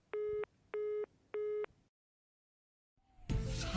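A phone busy signal on a call to a mobile: three evenly spaced beeps, then silence, then a burst of background noise.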